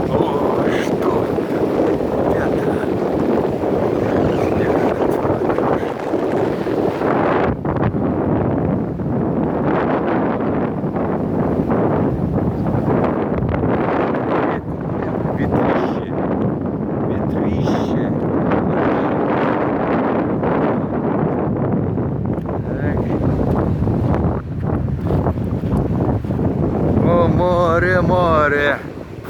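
Stormy sea on a seafront promenade in Antalya, Turkey, in the evening: a constant loud roar of wind buffeting the microphone and crashing surf, with a voice briefly heard.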